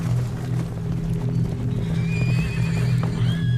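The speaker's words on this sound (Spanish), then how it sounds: "De repente, sintióse un tropel. Y envueltos en remolino de polvo, llegaron unos 30 indios." A troop of horses thunders past in a sound effect, with rapid overlapping hoofbeats and drumming, while several whinnies and neighs rise above the galloping.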